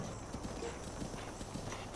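Horse hooves clip-clop steadily in the Zelda Breath of the Wild video game, a quick, even rhythm of soft hoof beats heard fairly faint and distant under game ambience.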